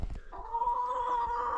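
Chickens cluck nearby in a coop with concrete and straw: a short, drawn-out clucking call from one bird, moderately loud, with no talk.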